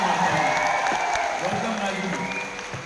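Loud applause from a crowd welcoming a guest named Raju at a Bangalore festival gathering, a dense steady patter of clapping that fades slightly at the end while someone speaks over it.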